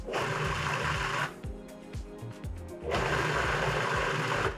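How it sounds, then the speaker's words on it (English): Food processor pulsing a lentil meatball mixture in short motor bursts, a loud whir of about a second at the start, several brief stop-start pulses, then another loud sustained burst near the end, close and with no talking. "So I put all the ingredients in the food processor. I'm gonna pulse it just a little bit before I add the breadcrumbs."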